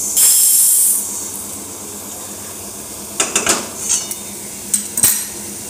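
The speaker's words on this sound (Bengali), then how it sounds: "একটা বাটিতে ঢেলে নেব।" Fried moong dal tipped from a wok into a bowl: a sharp burst of hiss at the start, a quieter stretch, then several close metallic scrapes and knocks of a spatula against the pan and bowl.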